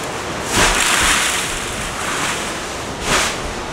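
Ocean waves wash onto an island shore in the Pacific, two broad surges of rushing surf rising and falling over a constant windy roar, with no voices.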